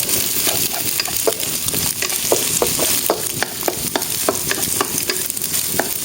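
An egg frying toward golden brown in a black pan, loud continuous sizzling and crackling with scattered sharp spatters and light utensil taps throughout, no voices.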